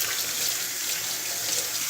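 Cool tap water runs steadily over drained canned black beans in a kitchen sink, a constant close hiss with no talk.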